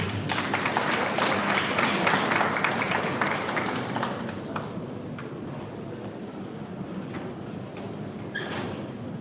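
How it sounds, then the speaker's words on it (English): Audience applause at the commissioning of the Parliament of Ghana museum, a dense wash of clapping that starts loud and eases slightly, with some voices mixed in near the end. "Please, let's give him a round of applause."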